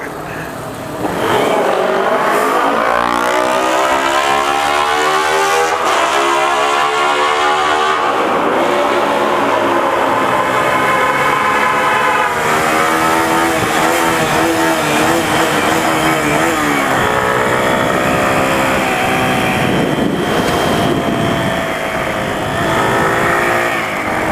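Motorcycle engine opened up while riding toward a tunnel, a loud continuous roar with rising and falling revs as the rider shifts through the gears, sustained close to the microphone for the whole stretch.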